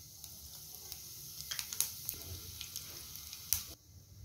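Cumin seeds sizzle faintly in hot oil in a kadai over a gas flame. Soft, steady frying hiss carries scattered small pops and crackles, ending abruptly.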